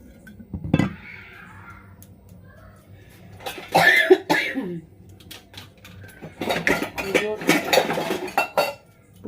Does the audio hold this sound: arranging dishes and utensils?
yes